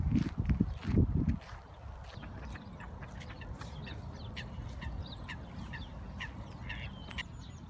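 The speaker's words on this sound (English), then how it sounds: "Sitting here watching the ducks." Ducks quack intermittently at a distance in a Berlin park amid faint outdoor ambience, with a brief louder rumble at the start.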